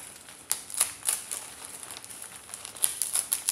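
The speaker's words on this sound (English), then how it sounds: "she says to break up the ramen noodles in here" Dry ramen noodles crackle and snap as they are broken up inside a zipper-top plastic bag, a close series of sharp crunches and crinkles in uneven bursts, with no talking.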